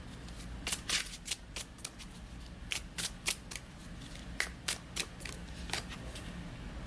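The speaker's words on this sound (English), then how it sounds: "now I'm gonna pull a few of these cards right here" Oracle cards shuffled by hand before a few are pulled, giving a run of crisp riffling and slapping bursts in an uneven rhythm, close and fairly quiet over a low background hum.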